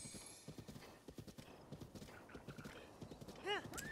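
A horse in the game The Legend of Zelda: Breath of the Wild, its hooves clip-clopping in a quick, rhythmic run, with a neigh near the end, heard under game sounds and faint talk.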